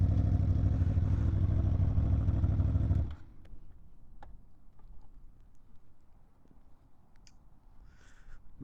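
A 2023 Aprilia Tuono V4 Factory motorcycle idling loudly up close for about three seconds before the engine is switched off, leaving quiet outdoor ambience with a few faint clicks.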